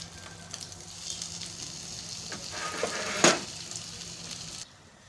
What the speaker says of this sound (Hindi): हल्की आंच पे 5 मिनट एक साइड से, 5 मिनट दूसरी साइड से इसको फ्राई करना है